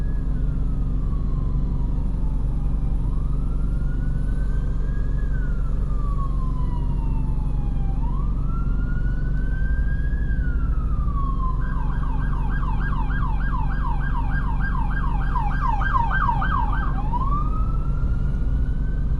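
An ambulance siren wails in slow rising and falling sweeps, then switches to a rapid yelp before returning to the wail, loud over steady traffic rumble in Brisbane.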